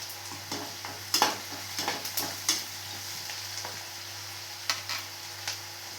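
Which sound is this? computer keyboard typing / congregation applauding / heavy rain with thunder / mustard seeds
mustard seeds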